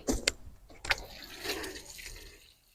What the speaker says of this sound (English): I'll go turn my water hose on